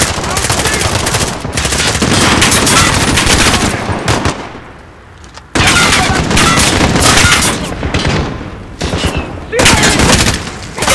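Sustained, loud machine-gun fire from a gun nest rattles in dense bursts with a brief lull midway, during Call of Duty: Modern Warfare gameplay, and voices call out over the shooting.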